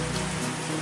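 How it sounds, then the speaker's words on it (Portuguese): Sudden rain shower falling on a sunny Christmas Eve in the countryside, a steady dense hiss of drops close by with no talk. "Porque aqui tá chovendo e tá com sol."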